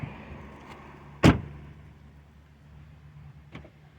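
Door locks on a 2021 Ford Escape with a lock fault actuate: one sharp, loud clunk, then a fainter second click a few seconds later, with no talk.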